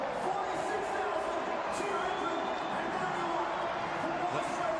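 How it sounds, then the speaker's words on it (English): A pocket of China fans sings and chants in a packed stadium crowd at a Socceroos World Cup qualifier at the Adelaide Oval, a steady distant roar of massed voices with rhythmic rising chants throughout. "that pocket of China fans hasn't stopped singing and chanting for the entire game"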